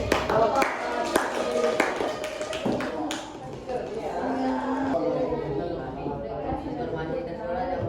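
Students clap for group 1 in a classroom, a burst of loud, uneven clapping at close range that thins out and fades, with children chattering throughout.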